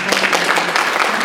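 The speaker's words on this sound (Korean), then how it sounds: "그리고 다시 한번 또 저희 패널리스트 분들한테 박수 부탁드립니다." Audience applause for a panel of speakers at a church Q&A gathering, a steady patter of many hands clapping together close by for just over a second.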